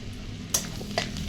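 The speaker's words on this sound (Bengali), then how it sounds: "আদা রসুন কুচিটা দিয়ে দিলাম, দিয়ে হালকা একটু নাড়াচাড়া করে নেব" Chopped ginger and garlic sizzle in hot oil with a steady low crackle, broken by two brief scraping stirs of a spoon against the pan.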